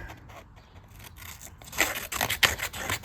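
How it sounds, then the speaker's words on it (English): Quick crisp snipping of very sharp scissors, several cuts in a row that grow louder toward the end, close by with faint room noise. "Yeah, very sharp scissors."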